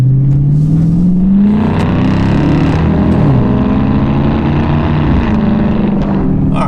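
A Dodge Charger RT with a Flowmaster exhaust accelerates hard. A loud, deep engine roar climbs in pitch, dips briefly, then holds a strong rumbling drone close by the whole time, with nobody talking.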